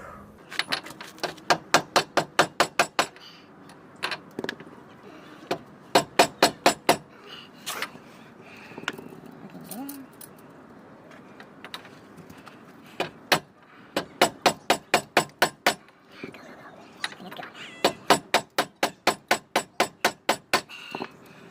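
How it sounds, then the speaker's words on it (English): Metal hammer strikes driving a rear axle bearing into a 1995-2005 Chevy Blazer/S10 rear end, sharp ringing blows in fast bursts of about six to eight, loud and close, with pauses between runs. "you just beat it until you can't get it in anymore, and then you know it's in"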